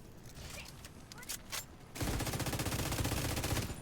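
The Pestilence exotic machine gun from The Division 2 opens up in a loud, sustained rapid-fire stream. Game noise and scattered shots come first, and the constant rattling burst fills the second half.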